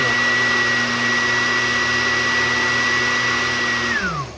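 A blender whirs loudly and steadily at close range, a constant motor drone that winds down abruptly at the end.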